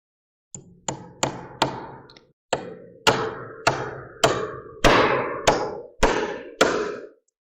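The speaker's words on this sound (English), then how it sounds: "It's always nerve-wracking hammering in front of the camera." A hammer drives nails into timber wall framing and blocking, about a dozen sharp, close strikes in an uneven rhythm, each ringing briefly before the next, with short pauses between groups and no talking.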